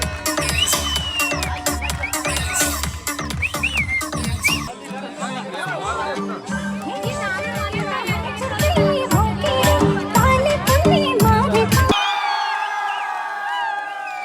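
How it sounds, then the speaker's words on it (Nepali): Audience at a celebration for The Voice of Nepal 6 winner Prosess Pandey and coach Khem Century, clapping, cheering and whooping in a lively crowd with children's voices and chatter, abruptly cut near the end. "सबैले ताली बजाउनुहोस् है, हल्ला गरौँ, रमाइलो गरौँ, खुसी साथ।"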